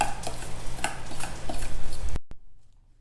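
Sauce stirred with a spoon in a bowl after a small teaspoon of toasted sesame oil goes in, giving quick scraping clinks and swishes, then abruptly cutting to near silence.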